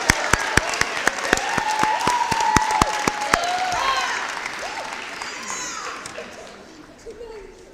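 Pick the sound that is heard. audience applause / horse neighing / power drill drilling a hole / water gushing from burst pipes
audience applause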